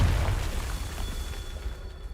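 Confringo fire spell exploding in Hogwarts Legacy: a loud, deep boom bursts at once and then rumbles away over about two seconds, with no talking.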